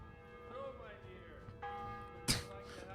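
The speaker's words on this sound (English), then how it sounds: "Ring on the bell." A church bell rings in the medieval game Kingdom Come: Deliverance, with steady sustained tones. A sharp, loud clang strikes near the end over a quiet ambient background.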